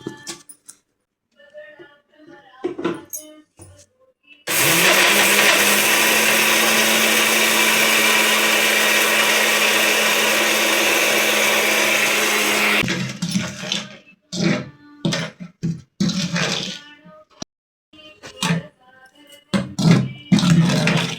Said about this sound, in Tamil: இப்போ இதை மிக்சியில் போட்டு நல்லா பவுடராக அரைச்சிப்போம்